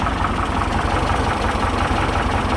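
A Volkswagen T2 with a rebuilt 1641 air-cooled engine idles close up with a steady, loud, throbbing low rumble and an even pulsing rhythm throughout.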